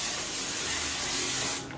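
Hair product sprayed onto the ends of long hair, a short continuous pressurized hiss at close range that cuts off near the end.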